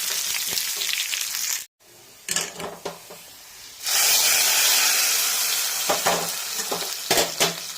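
Curry leaves and dried red chillies crackle and sizzle in hot oil as they are stirred for a drumstick and toor dal curry, with a brief break before a louder, steady hiss of frying resumes.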